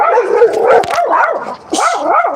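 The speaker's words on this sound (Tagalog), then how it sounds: "Sorry, I have a dog." A dog yips and whines up close, a run of loud, wavering, high-pitched barks and whimpers in quick succession.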